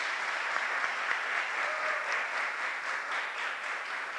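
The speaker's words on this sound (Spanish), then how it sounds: "un fuerte aplauso para todas ellas." Sustained applause from a seated audience at a journalism and culture conference, honoring women panel guests; even, continuous clapping at moderate level with no voices over it.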